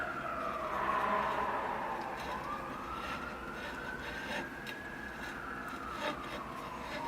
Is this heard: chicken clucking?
no